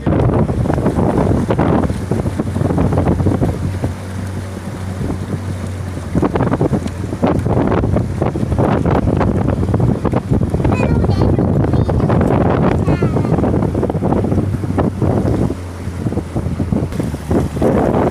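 A boat rides across the Red Lotus Sea lake in Nong I Tue, Yang Talat, Kalasin, with a steady low engine hum and gusty wind buffeting the microphone throughout, while voices chatter on and off.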